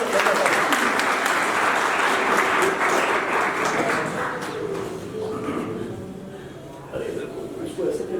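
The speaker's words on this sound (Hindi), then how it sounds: "ताली बजा सकते हैं।" A hall audience at a talk bursts into dense, sustained applause that holds steady for several seconds, then thins and briefly swells again near the end.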